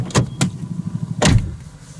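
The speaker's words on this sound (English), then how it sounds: "I had to close the door the rest of the way" A car door is pushed shut after a couple of sharp clunks, ending in a solid thud against a low idling engine hum, close and loud.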